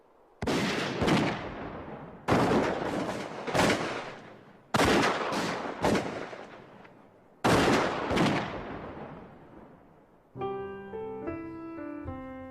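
Rifle gunshots from buffalo hunters on the open plains, loud separate cracks in irregular clusters of two or three with long decaying tails, then a short musical passage at the end.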